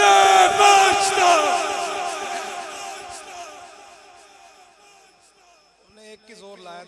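A large crowd at a religious gathering roars a slogan response in unison, loud at first and then fading out, with a brief voice returning at the end.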